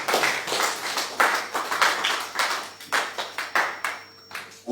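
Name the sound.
church congregation clapping and acclaiming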